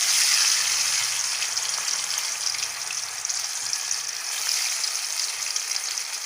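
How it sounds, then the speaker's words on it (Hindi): Fish pieces frying in hot oil for a green masala fish biryani, a steady, close, dense sizzle that holds evenly throughout with no talking. "अब इसमें हम फिश पहले फ्राई करेंगे, फिर हम राइस का मसाला रेडी करेंगे।"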